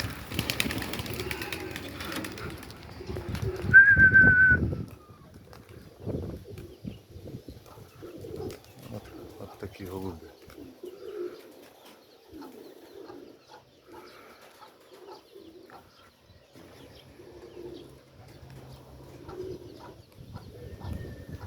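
Old-breed Ukrainian pigeons, cheeky, whiskered and white, coo in soft repeated low calls close by, after a brief burst of flapping and clatter at the start, with a voice occasionally in the background.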